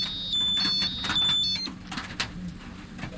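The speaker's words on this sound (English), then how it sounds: "shallow alarm. It never did that before" An old boat depthfinder sounds its shallow water alarm, thin high electronic beeps in a short repeating series over steady background hum and clatter.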